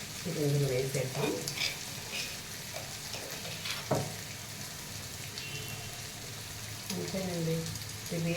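Pounded garlic and chili paste goes into a pan of frying beetroot, setting off a soft, steady sizzle close by with light stirring clatter, while a voice talks over it at intervals.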